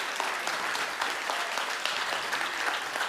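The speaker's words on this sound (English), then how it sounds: "Please give a warm round of applause again, Nate Baldwin." Audience applause at a tech conference talk in New York, a steady wash of many hands clapping, dense and fairly loud throughout with no voices over it.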